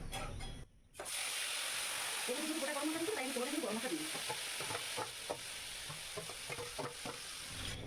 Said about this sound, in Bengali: এবার মাংসটা আমি দিয়ে দেবো